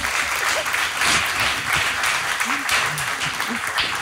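Sustained applause from an audience, a dense steady patter of clapping that lasts throughout, with voices talking over it.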